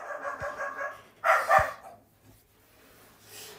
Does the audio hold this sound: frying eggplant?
no